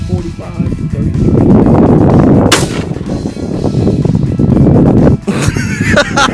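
Two loud gunshot blasts from a .45 firearm shooting solid brass lead-free projectiles at an outdoor sign, with a heavy sustained rumble and wind noise between the shots.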